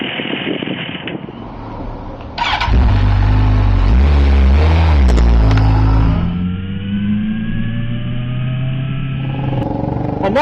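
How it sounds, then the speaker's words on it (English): A 2011 Suzuki GSX-R1000 sportbike with its stock exhaust, revving loudly from a rough idle to a sustained high-rpm roar, then settling back to a lower steady engine note, close up. "Today I will be showing you how the exhaust fan and the entire system sounds on this engine"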